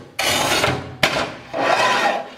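A Masterpiuma3 manual tile cutter wheel, lubricated with WD-40, scoring porcelain tile in two close, loud grinding strokes, with a sharp click between them.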